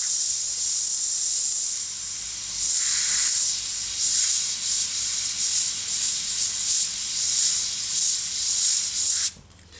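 An airbrush sprays paint onto a Me 109 scale model in a close, steady hiss broken into pulsing bursts as the trigger is worked, stopping abruptly near the end, with no voices.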